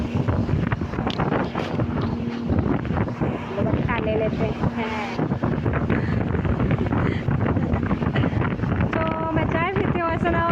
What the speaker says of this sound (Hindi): हवा इतनी चल रही है कूलर की, ऐसे लग रहा है जैसे आंधी आ गई